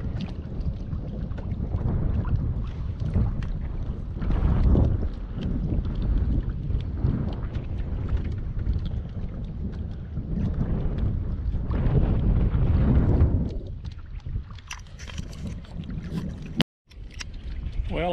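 Steady wind buffeting the microphone while paddling a boat down Stevens Creek, a loud continuous rushing and rumbling that swells and eases, with occasional faint voices underneath.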